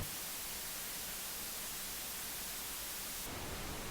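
Steady pink noise generated in the SynthEdit software synthesizer, a constant dark hiss with rolled-off highs that holds evenly for the whole stretch, shifting slightly in tone near the end, with no voices.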